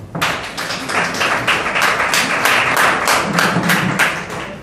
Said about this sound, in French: Donc, applaudissez pour ça.